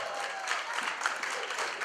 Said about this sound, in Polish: Gorące, gorące brawa dla Pani Młodej.